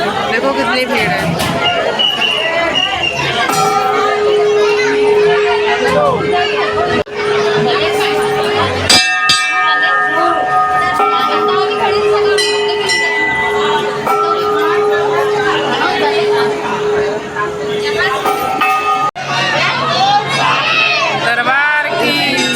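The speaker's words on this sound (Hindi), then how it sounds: "देखो कितनी भीड़ है।" Dense crowd at Bijasen Mata temple during Navratri festivities, a loud continuous hubbub of chatter, children shouting and occasional cheers, with bells and tones ringing through and a voice talking over it.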